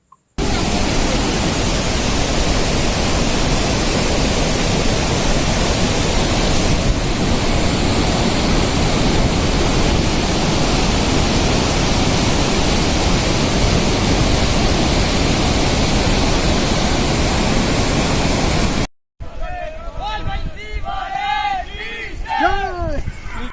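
A large, fast-flowing waterfall near the start of the Valley of Flowers trek roars as a loud, unbroken rush of water close at hand for about nineteen seconds, then cuts off and a voice speaks.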